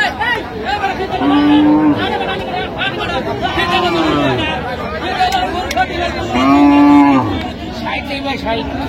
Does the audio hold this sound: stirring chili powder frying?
no